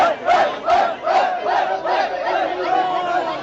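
A stadium crowd at the Tokyo Olympics javelin final hoots and cries out in loud, repeated waves, a dense mass of voices swelling and falling several times.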